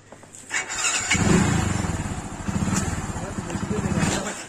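An old motorbike engine cranks, catches and chugs roughly, then stalls, loud and close, with people talking over it.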